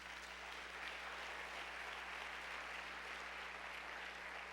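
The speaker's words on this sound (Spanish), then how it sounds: "¿Alguien le puede dar un aplauso a Dios?" Applause fills a church, a steady even wash of clapping from a congregation that holds at a constant, fairly soft level from start to finish.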